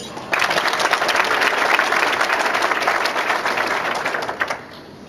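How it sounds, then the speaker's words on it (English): Rough Rider fans in a luncheon audience break into applause, a dense, steady roomful of clapping that starts abruptly and fades slightly toward the end. "a big round of applause for from the Rough Rider fans in the audience"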